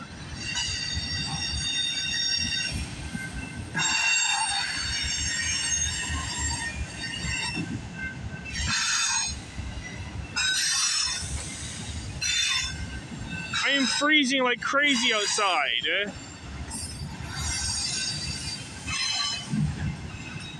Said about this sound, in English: When is this train going to end?